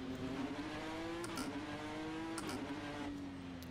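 Ford GT GTE race car engine in a racing simulator, a steady high-pitched drone holding one gear with brief shifts or lifts, alone and fairly quiet without talk.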